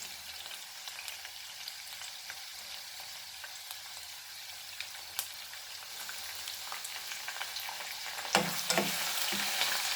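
Beef keema frying with ginger garlic paste in a pan gives a steady, fairly quiet sizzle with light crackle throughout, and a few louder stirring scrapes and spits near the end.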